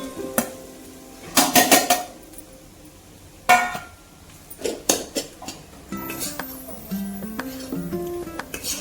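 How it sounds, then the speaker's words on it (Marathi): Chicken with coriander powder, turmeric, garam masala, red chili and black pepper is stirred in a pan for a chicken fry, with clustered metallic scrapes and clanks over a soft sizzle. No voice is heard. "चांगले परतून घ्यायचे आहे."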